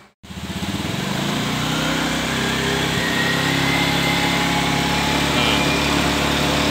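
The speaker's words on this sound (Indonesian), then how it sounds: "kita mainkan gas ini dibantu 2 orang, satunya ngegas, satunya nyemprot sini" A small engine kept at raised revs during fuel-injection cleaning and tuning, starting abruptly and holding a loud, steady buzzing drone close by.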